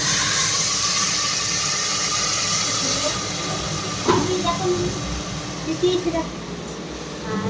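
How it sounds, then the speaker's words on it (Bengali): Vegetable curry frying in a pan with a steady hiss, then water poured in with a sudden surge of bubbling and sizzling, with a voice speaking over it. "এখন এতে জল দিয়ে দেবো"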